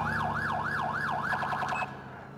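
A police car siren in GTA 4 wails in a fast, rhythmic up-and-down sweep, loud and close, then cuts off abruptly near the end, leaving a low hum.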